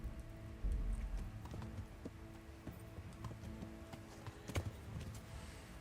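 Horse hooves clip-clop at a run in Kingdom Come: Deliverance, a quiet, irregular patter of hoofbeats with a few sharper thumps.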